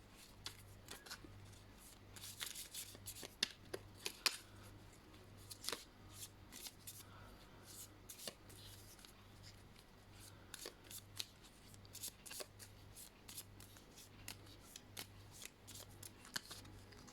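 Playing cards are shuffled and riffled in repeated quick bursts of crisp flicking, close and fairly quiet, with a steady low hum underneath and no voice.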